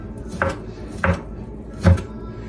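A knife cubing raw round steak on a cutting board for a smoked meatloaf: three distinct, evenly spaced chops, close and fairly quiet, each a sharp thud against the board.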